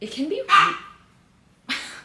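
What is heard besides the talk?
dog barking outside a door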